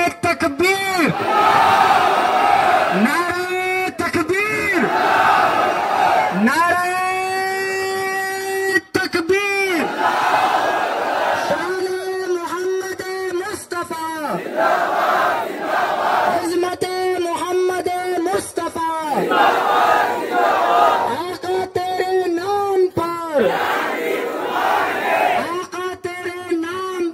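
A crowd at a Muslim protest in Parbhani chants loudly in unison, answering the Takbir slogan call in repeated, rhythmic bursts of massed voices with short gaps between them.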